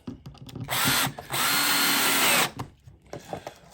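A power drill drives screws into wood while a fairground ring-the-bell high striker is being built. Two loud, close, sustained whirring bursts come one after the other, separated by a brief pause, with quieter handling knocks around them.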